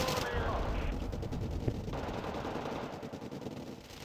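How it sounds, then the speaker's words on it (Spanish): Machine gun fire in the real-time strategy game Wargame Red Dragon, rapid repeated bursts of gunfire crackling steadily at moderate level against a busy battle background. "no puedo contra esos spams, de ametralladoras"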